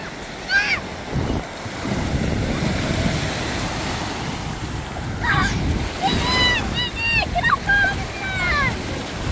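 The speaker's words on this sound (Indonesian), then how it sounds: "Anak-anak Bang Onim lagi berenang di pantai Palestina." Sea waves breaking on a beach in northern Gaza at the start of summer, a continuous rushing wash of surf with wind buffeting the microphone, while children's voices and calls rise over it.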